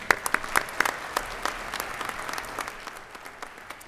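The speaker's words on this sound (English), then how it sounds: "Join me in giving them a round of applause again" Brief audience applause at an awards ceremony, sharp separate claps at first that thin into a quieter patter before fading out.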